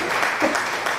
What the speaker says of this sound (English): that was an applause on my side